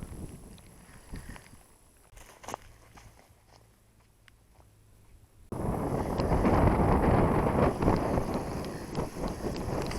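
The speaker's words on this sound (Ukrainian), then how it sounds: "зараз вітер піднявся. І дощ оцей" Steady wind roars against the microphone beside a river in autumn, surging much louder halfway through with a dense hiss of rain.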